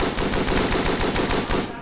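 Lewis machine gun fire in the Call of Duty WWII video game, a sustained rapid burst of evenly spaced shots with a slightly thin, primitive character, loud and continuous throughout with no talk.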